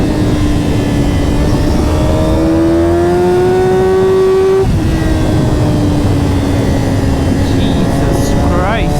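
A Yamaha R6 motorcycle engine pulls hard with a loud, rising whine, a sharp gear change midway and then another climb in pitch.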